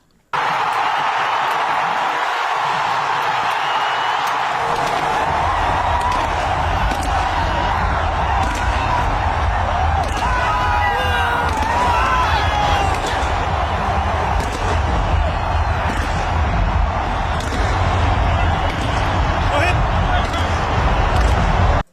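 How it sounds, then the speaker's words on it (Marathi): A large stadium crowd in Dubai roars in sustained cheering after India's Champions Trophy final win over New Zealand, a dense, steady wall of noise with whoops and clapping throughout. "दुबईतील स्टेडियमवर एकच जल्लोष सुरू झाला"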